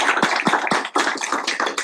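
A Senate meeting room breaks into clapping for the Dean of the Day, a brief burst of many hands with a few sharp individual claps standing out, fairly close and with no talk.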